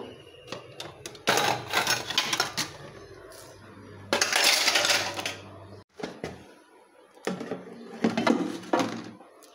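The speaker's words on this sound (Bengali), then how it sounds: "আর এখানে আমি বাসন পালাগুলো সব গুছায় রাখবো।" Dishes and utensils being put away and arranged in a home kitchen: intermittent bursts of metallic clinking and clattering, with short pauses between handfuls, close and fairly clear.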